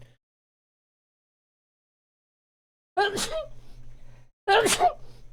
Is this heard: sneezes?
yes